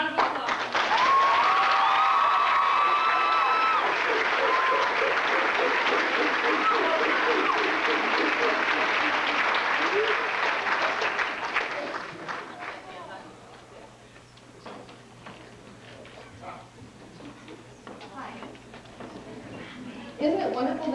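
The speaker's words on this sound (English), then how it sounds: "give them a big round of applause" An audience at a high school production of Guys and Dolls applauds loudly after the musical performance, dense sustained clapping and cheering for about twelve seconds that fades to scattered claps, with voices in the hall.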